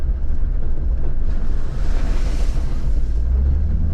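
Continuous loud rushing water and low rumble as a Jeep Gladiator pushes through a creek on Onion Creek Trail in Moab, Utah, steady throughout with a broad swell in the middle.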